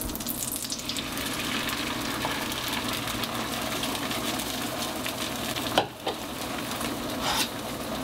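Eggs cooking in a buttered pan for scrambled eggs, a continuous close sizzle with spatula stirring and scraping, a couple of louder knocks near the end.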